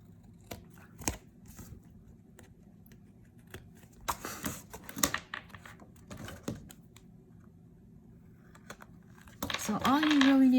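Scissors trimming excess paper from a Paper Pumpkin card kit, heard as a series of sharp, close snips and clicks spread irregularly over several seconds, with a brief rising squeak near the end.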